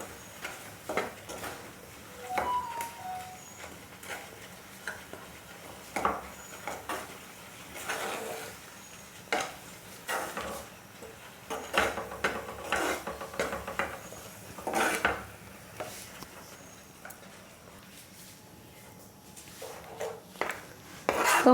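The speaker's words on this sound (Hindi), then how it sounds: "इसे लगातार चलाते हुए पकाना है" A mango mixture for eggless, sugar-syrup-free mango laddoos stirred continuously in a cooking pan as it thickens, with repeated scraping and rubbing strokes of a utensil against the pan, moderately close and steady, no talking.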